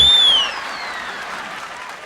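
On a comedy stage show, a crowd claps briefly and evenly, moderately loud, after a short high tone fades at the start.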